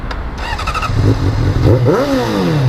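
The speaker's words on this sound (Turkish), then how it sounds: "bir motoru bir açsana bir egzoz sesini duyalım" A motorcycle engine revs up loudly with a rising whine, its aftermarket exhaust roaring close by before settling into a steady throaty idle.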